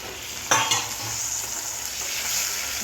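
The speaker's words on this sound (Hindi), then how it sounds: "हमें भूनना है।" Softened onions hiss and sizzle steadily in a hot pan while being stirred for a chicken kali mirch curry, with a couple of sharp scraping stirs early on over a continuous close frying noise.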